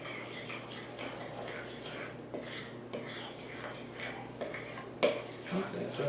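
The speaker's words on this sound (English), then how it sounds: "and then you mix that in." A spoon or utensil clinks and scrapes against a bowl while dry ingredients are stirred into wet ones, irregular close knocks and scraping with occasional louder taps, no talking.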